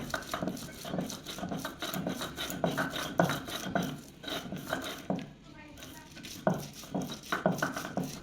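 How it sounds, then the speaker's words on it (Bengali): Boiled green chilies are ground into a paste on a grinding stone, with repeated close rubbing and grinding strokes in a steady back-and-forth rhythm, moderately loud. "কাঁচামরিচ একটু সিদ্ধ করে কাঁচামরিচ বেটে নিচ্ছে"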